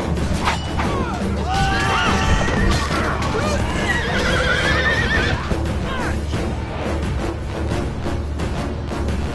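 Horse neighing and whinnying in a battle game pitting Persians against Macedonians, with clip-clop hooves and battle noise underneath, loud and close, repeated calls over several seconds.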